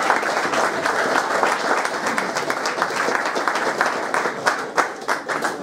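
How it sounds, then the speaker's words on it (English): At a racing club media day, an indoor audience gives dense, sustained applause, close and fairly loud, with a few sharper individual claps standing out toward the end. "Just one last round of applause."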